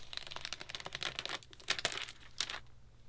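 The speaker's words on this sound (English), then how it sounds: "remove the plastic from the top" Plastic wrapping is peeled off the top of a newly unboxed Mac Pro rack unit with soft, close crinkling and crackling bursts, fairly faint and with no voices.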